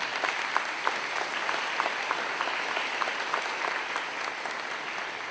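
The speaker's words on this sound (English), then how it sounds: "So we can give a round of applause to the family, friends of our class." A crowd claps steadily in sustained applause at a high school commencement, a dense patter of many hands filling the room without pause.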